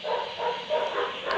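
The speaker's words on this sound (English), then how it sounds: "excuse the dogs." Several dogs bark in quick, repeated bursts close by, yipping sharply in a backyard workshop setting.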